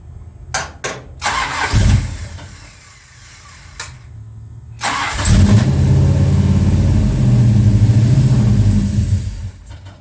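A Plymouth Road Runner with retarded ignition timing: a few short bursts of the starter cranking, then the engine catches and runs with a loud, rough, close roar.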